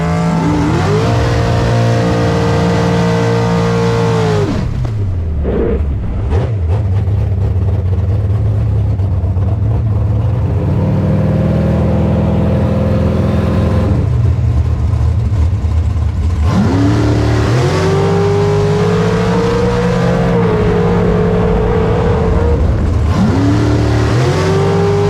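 Bracket racing car on a drag strip, engine roaring loud and close through repeated rising gear-change sweeps, revs climbing, dropping and climbing again over a steady heavy drone.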